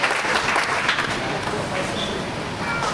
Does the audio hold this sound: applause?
yes